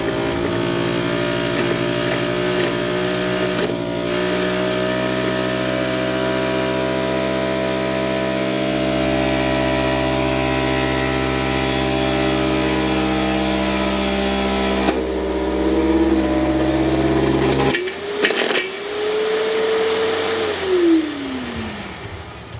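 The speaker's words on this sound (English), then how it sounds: "this air compressor is not made to do this, and I did end up pushing it to its extreme limit" An air compressor pushed past its limit, its fan melting and piston seal breaking, drones loudly and steadily before its tone shifts abruptly, rising into a whine and then sliding down as it gives out.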